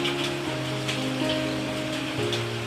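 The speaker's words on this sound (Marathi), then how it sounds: "तर बघा पाऊस किती आहे आमच्याकडे" Steady, dense rain hisses without pause, with a low mechanical hum running underneath.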